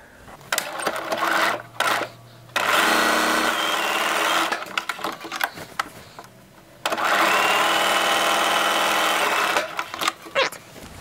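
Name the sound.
sewing machine sewing pajama top shoulder seams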